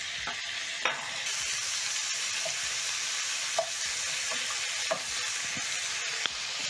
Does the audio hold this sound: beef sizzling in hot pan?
yes